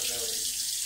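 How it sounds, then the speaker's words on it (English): Water from a kitchen tap runs steadily into a pan being filled to measure two cups, a continuous close hissing splash without any talk. "So I'm just going to turn my water on."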